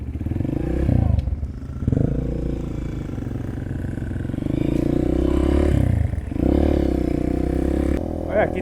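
A Honda CRF motorcycle engine drones steadily at close range while riding on sand, with brief dips and surges in throttle and some rattling.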